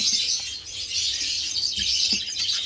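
Budgerigars in breeding cages give off a constant high, dense chirping chatter, a busy flock sound that runs evenly throughout at a moderate level.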